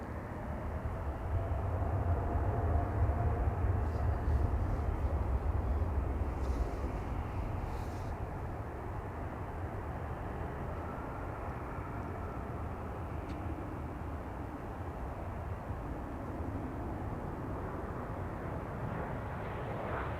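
A KLM Embraer jet lands at Amsterdam Schiphol with a dull, continuous roar and low rumble that is strongest early on, then settles into a steady distant wash of engine noise.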